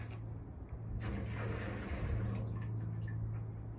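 Maple sap poured from a filter into a warming pan in a sugar shack, a steady close splashing wash of liquid running continuously under a low constant hum.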